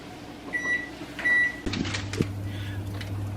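A microwave oven heating curry sauce: a few keypad beeps, the door shutting with a thud, then the steady low hum of the oven running, close and clear.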